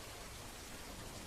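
Steady rain falls in an even, dense hiss with no breaks. It sounds soft and constant, with no voices over it.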